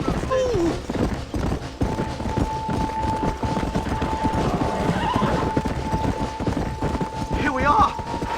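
Horse hooves clip-clop at a steady run with a neigh, in the Red Dead Redemption western video game, under a sustained musical tone and light background voice.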